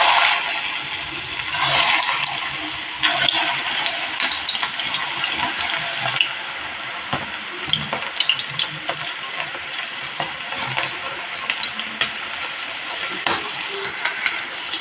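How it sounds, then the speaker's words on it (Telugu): Spoonfuls of okra (bendakaya) pakodi batter crackle and sizzle steadily in hot oil over a high flame, a dense continuous frying hiss with occasional stirring scrapes, close and fairly loud, no talking. "హై ఫ్లేమ్లోనే మాత్రమే ఫ్రై చేసుకోవాలండి ఇది"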